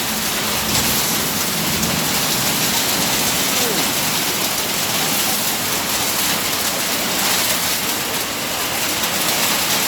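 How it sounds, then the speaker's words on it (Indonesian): A hailstorm in Cimahi, Bandung, West Java, roars steadily as hailstones pour down hard and dense for the whole stretch, a loud, unbroken wash of impacts with faint voices buried underneath. "Hujan es coy, hujan es."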